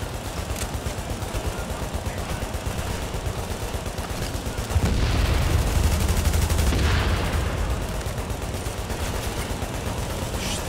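Bursts of rapid gunfire crackle continuously in The Division, growing heavier midway with deeper booming shotgun shots, no talking.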